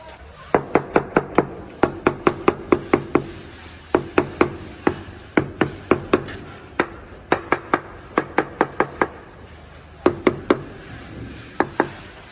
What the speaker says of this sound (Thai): เสร็จแล้วช่างก็จะเคาะให้ได้ ระดับ